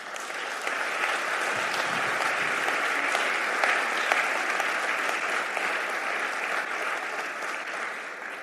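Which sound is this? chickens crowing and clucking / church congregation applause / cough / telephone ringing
church congregation applause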